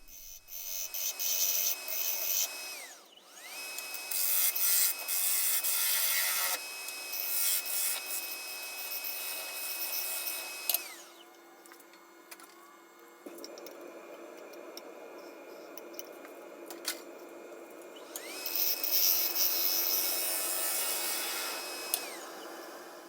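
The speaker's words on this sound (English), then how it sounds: "I just went back to shear scraping the outside" A tool shear-scrapes the outside of a spinning butternut bowl on a lathe, making a continuous rasping rub over the motor's whine, pausing midway as the lathe hum drops and then resuming near and steady.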